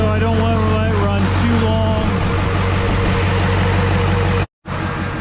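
LLY Duramax diesel engine idling on its first start with no coolant yet, running loud and steady with a deep rumble and whining tones, then cutting out in a brief dropout before resuming near the end.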